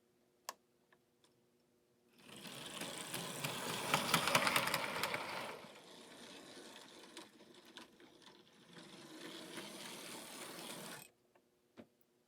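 An American Flyer 371 toy train locomotive motor, running on filtered rectified DC, whirs steadily for several seconds, loud at first and then softer, with faint clicks before it starts and after it stops.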